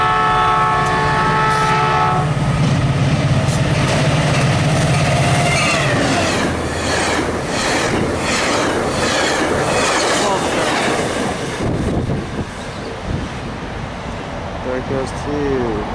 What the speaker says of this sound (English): Southbound Caltrain Express.